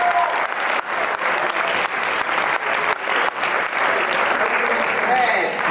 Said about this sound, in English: one more clap for our record-breaking team